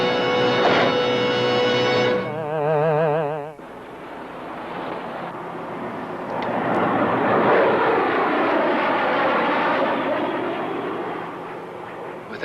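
Jet aircraft roars overhead, a loud broadband rush that swells and sweeps in pitch as it passes, following an earlier strained, warbling engine tone, with no clear talk over it.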